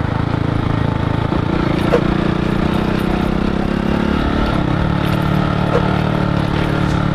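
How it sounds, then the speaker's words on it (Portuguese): Motorcycle engine running steadily and loud throughout after restarting, a continuous close mid-pitched rumble with no talk over it. "Agora voltou a vida da moto."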